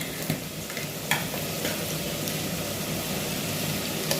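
Béchamel sauce being stirred in a pan, a soft steady scraping and faint sizzle at low level, with a few light clicks of the utensil against the pan, no voices.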